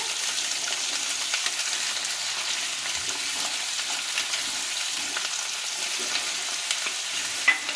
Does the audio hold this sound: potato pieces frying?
yes